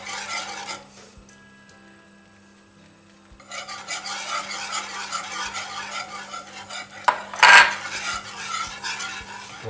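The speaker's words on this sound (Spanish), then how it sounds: "Y seguimos removiendo, subimos un poquito el fuego ahora." A utensil scrapes and stirs a thick cooking mixture in a pot over a raised flame, with rhythmic rasping strokes. A short quieter gap is followed by a sharper metallic clink near the end.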